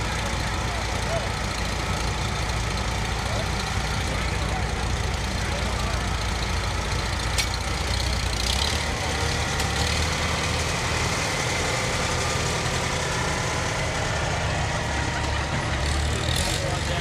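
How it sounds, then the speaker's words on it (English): A 1953 Farmall H tractor idles at a fair parade in Jamestown, its steady engine drone running under crowd noise and an announcer's voice throughout. "a 1953 Farmall H, driven today by Jonas Rhea of Jamestown"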